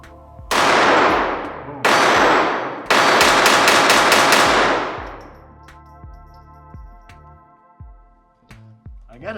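Ruger LCP II .22LR pistol fired at a target: three sharp, loud reports in close succession, the last followed by a rapid burst of quick shots, each ringing out with a long decaying tail before quieter clinks and handling noises.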